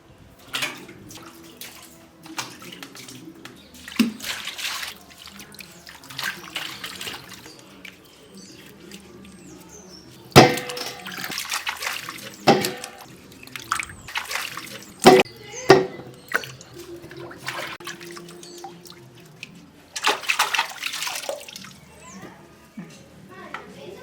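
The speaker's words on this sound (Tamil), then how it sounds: "குச்சி சிப்ஸ் செய்யறதுக்காக இந்த உருளைக்கிழங்கை நல்லா தண்ணியில் போட்டு நல்லா தேய்ச்சி கழுவி எடுத்துக்கலாம்." Potatoes are scrubbed by hand in a bowl of water before being made into chips. Intermittent splashing and sloshing comes in bursts with short pauses, and a voice talks at times.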